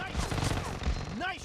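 PUBG Mobile gunshots in an 8 versus 8 unranked match, a short dense burst of rapid fire heard close, with a voice speaking over it.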